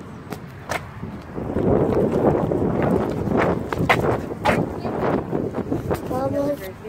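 Gusty wind blowing outdoors, a broad steady rumble buffeting the microphone for most of the stretch, with a family chatting over it.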